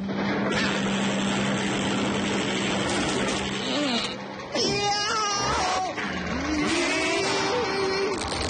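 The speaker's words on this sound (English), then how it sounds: "Ah, you see, there's the motor." A cartoon boat motor drones loudly and continuously, with brief squealing, voice-like cries over it and a short dip in the engine noise partway through.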